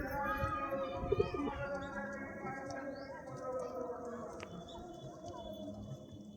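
Pigeons coo in a pigeon loft, a steady low murmur of calls running throughout over background noise.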